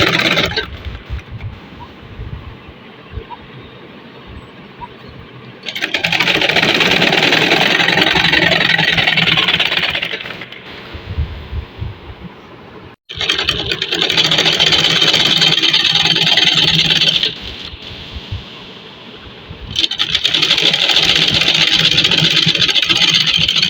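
An electric sewing machine stitches fabric folded over elastic on a pyjama waistband, running in several loud bursts of a few seconds each with short quieter pauses between them.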